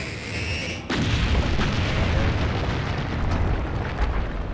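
A large in-game explosion in Kingdoms of Amalur: Reckoning erupts suddenly after a brief quieter lead-in, followed by a loud, sustained rumbling roar with scattered crackles and debris bursts that continue to the end.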